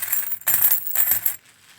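Australian silver coins clink and jingle together in two bright, metallic bursts, close and fairly loud, ending in quiet.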